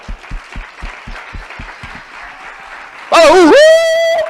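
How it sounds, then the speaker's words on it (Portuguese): Church congregation clapping in a steady, rhythmic beat of about nine claps during a worship service, fading out before a loud, sustained shouted cheer breaks in close by. "vamos aplaudir Jesus!"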